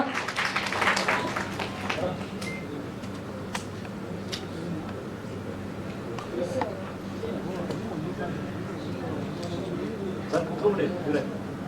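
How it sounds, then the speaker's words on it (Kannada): An audience at a Kannada film teaser launch event applauds loudly to welcome guests on stage, a steady wash of crowd clapping running under a voice on a microphone. "ಒಂದು ಜೋರಾದ ಚಪ್ಪಾಳೆ ಮೂಲಕ ಅವರನ್ನ ಸ್ವಾಗತಿಸೋಣ"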